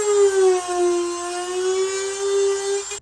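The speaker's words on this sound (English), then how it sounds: "swapped over from the cutoff wheel to the tiny sanding disc or sanding drum" A small rotary tool fitted with a tiny sanding drum grinds into a door, holding a steady high-pitched whine with a slight drift in pitch. It runs loud and close, without pause for about three seconds, then cuts off.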